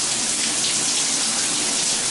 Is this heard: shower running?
yes